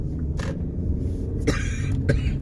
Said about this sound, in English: you heard me cough